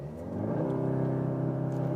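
A 2024 Audi S3 launches hard under launch control, its engine note climbing from a low drone into a rising, steady rev, moderately loud with no voices.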